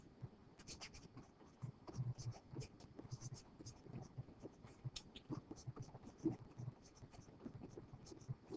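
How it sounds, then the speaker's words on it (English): Pen or marker scratches out an equation in short, uneven strokes, faint and close, running under a quiet voice. "let's again write down the equation"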